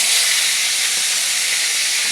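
Fish head frying in hot oil in a wok, a loud, close, dense sizzling hiss that holds steady throughout.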